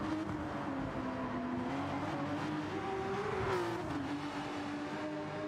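A blue Porsche race car engine in a sim racing game drones steadily at moderate distance, its whining pitch rising and easing slightly as the car runs through a stretch of track.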